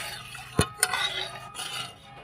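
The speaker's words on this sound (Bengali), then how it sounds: "একটু নেড়ে চেড়ে নেব" Food stirred in a pan, with two sharp utensil scrapes against the metal early on, then a softer continuous rubbing and scraping.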